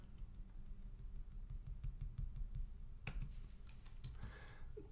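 Typing on a computer keyboard: a steady run of light key clicks, faint and close, with a brief burst of louder taps near the end and no talking.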